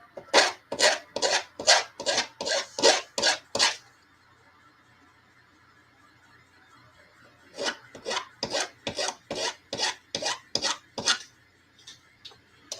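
Metal file rasping burrs off an axle in steady back-and-forth strokes, a fast run of about ten close, gritty scrapes, a pause, then another dozen strokes of the same rhythm.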